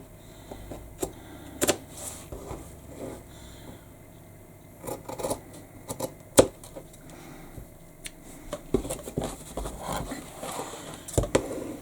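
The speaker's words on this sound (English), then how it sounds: "I'm going to cut each one out, and I'm using scissors" Scissors snipping through fabric in irregular bursts of short crisp cuts, with soft rustling and scraping of material between them, close up and fairly quiet.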